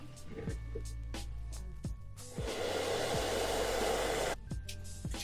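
A hair dryer roars in a steady broadband whoosh for about two seconds, used on oil pastels, with quieter hum and faint handling noises before and after.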